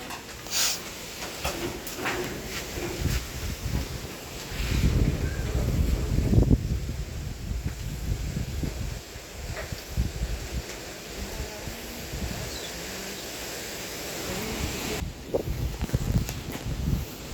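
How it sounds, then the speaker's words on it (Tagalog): Strong wind gusts roar and buffet the microphone, with rustling and low rumbling throughout, swelling heavier in the middle and easing toward the end. "hangin kasi masyado ngayon at sobrang lakas ang hangin"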